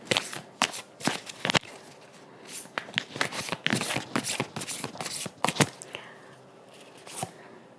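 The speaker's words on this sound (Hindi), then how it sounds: "हमारा जो लवर्स ओरेकल है उससे भी एक कार्ड निकालते हैं" Lovers Oracle card deck being shuffled, with dense papery riffling and slapping bursts coming in quick irregular clusters, close and fairly quiet, no talking over it.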